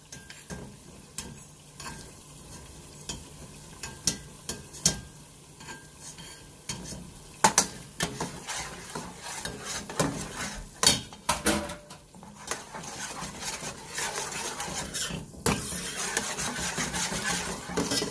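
A pot of shrimp etouffee sizzles steadily while a spoon stirs it, with scraping strokes against the pot and clinks of metal on the pan rising and falling in rhythm.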